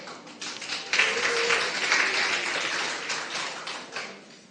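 Audience applause at a company lecture, a steady close wash of many hands clapping that swells, holds and then tapers off.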